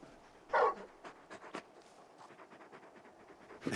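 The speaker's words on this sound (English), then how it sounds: "You're just a big puppy, aren't you? A very big puppy." Torgal, the large dog in the Final Fantasy XVI video game, pants softly in quick rhythmic breaths, with a sharper huff near the start and another at the end.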